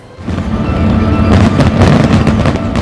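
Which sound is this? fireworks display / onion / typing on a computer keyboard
fireworks display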